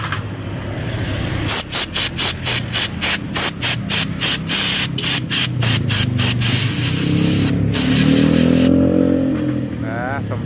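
Rexco 50 is sprayed onto the parts of a seized rear disc brake during a service, a rapid run of short hissing bursts close up under a continuous engine drone, with a person talking nearby.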